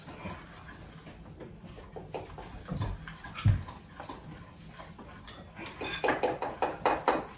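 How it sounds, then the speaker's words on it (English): A flour mixture is stirred in a bowl during family baking. Soft scraping gives way to a run of quick, rhythmic clinks of a utensil against the bowl near the end, close by, with no talking. "the flour mixture into this, and I'm going to stir it"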